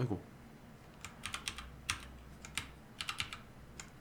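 Keys on a computer keyboard clack in short irregular bursts of taps while someone codes in C, moderately close and fairly quiet, with a faint voice nearby.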